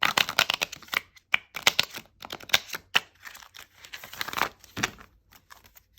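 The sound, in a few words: shuffling tarot cards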